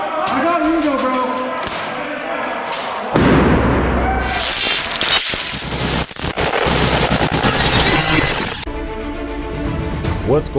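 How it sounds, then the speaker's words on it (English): An airsoft grenade bursts during a MILSIM game at the historic Nevada State Prison, a loud crackling blast with rapid popping amid shouting players and nearby gunfire. "Grenade!"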